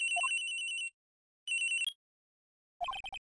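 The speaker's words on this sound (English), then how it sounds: "At around 10:30, I received a call on my phone." A video game phone rings in a synthetic electronic tone, with two long repeated ringing bursts separated by silence, then a third quicker chiming pattern; clear, close and alone.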